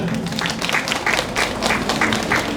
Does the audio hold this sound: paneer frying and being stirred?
no